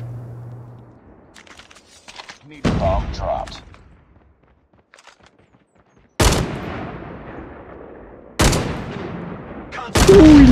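SVD sniper rifle shots in a first-person shooter, a few sharp, loud single cracks spaced seconds apart with long decaying tails, separated by quiet stretches and some talking.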